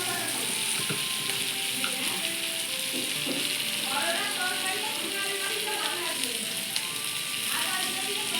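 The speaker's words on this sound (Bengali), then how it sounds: "এখন লঙ্কা গুঁড়োটা ভেজে দেওয়া" Chili powder frying in a hot pan gives a steady, dense sizzle that runs loud and unbroken from start to finish, with faint scattered crackles mixed in.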